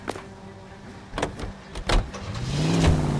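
A car in the L.A. Noire video game with doors thudding shut and a few mechanical clunks, then an engine starting and revving as the car pulls away, close and steadily rising.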